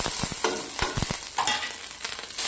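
Green cardamom, cinnamon, cloves, green chilli and shahi jeera fry in hot oil over browned onions, giving a steady close sizzle punctuated by sharp spoon-against-pan stirring knocks throughout.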